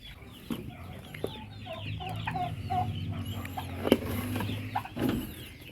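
Brooding hens cluck in a run of low, throaty calls close by, interspersed with higher chirps and a few sharper squawks from nearby chickens, with no talking over them.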